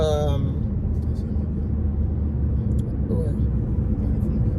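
A car being driven on a road, its engine and tire rumble a steady low drone throughout, with someone talking over it from inside the vehicle.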